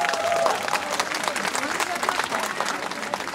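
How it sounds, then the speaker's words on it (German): Applause from a crowd at a Christmas market opening for Sina of the Musical Youngstars, a dense patter of clapping over a few seconds with some voices mixed in. "Einen großen Applaus für Sina von den Musical Youngstars."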